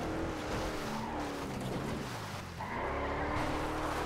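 A car skids and spins out in the GTA 5 video game, with engine roar, tire squeal and sliding noise that dip briefly before the engine revs back up, fairly quiet overall.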